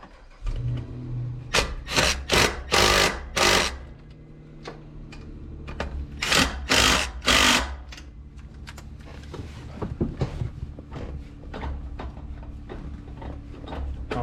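A socket wrench ratchets during final tightening of a 20% throw-reduction shifter kit in a C6 Corvette, with two rhythmic runs of loud, close clicking followed by lighter, sparser ticks.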